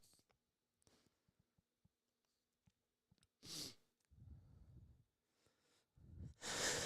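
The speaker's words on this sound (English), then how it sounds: "Second time that's happened that I've sneezed on the air." A play-by-play sports broadcaster sneezes on air during a live basketball broadcast, with sharp, loud bursts of breath and snorting between quiet clicks, close to the microphone.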